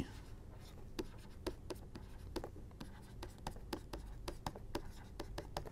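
Chalk or marker strokes on a board during a Hindi-language lecture, a steady run of short taps and scratches over a noisy room background.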